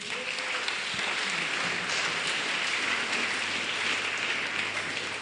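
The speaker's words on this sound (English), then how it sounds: "Tumpige makofi tafadhali." Audience applause at a scholarship ceremony, steady dense clapping from a crowd that continues evenly throughout.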